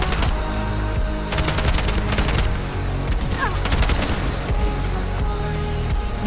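Heavy gunfire from sniper rifles and shotguns in the shooter video game Bright Memory Infinite, loud and continuous with rapid repeated shots, booms and clattering bursts filling the whole stretch.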